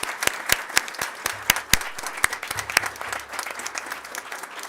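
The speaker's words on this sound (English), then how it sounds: "So please, if everyone can do a round of applause" Sparse, distinct hand claps ring out in a Senate committee hearing room, a small group applauding with sharp individual slaps over a faint low hum.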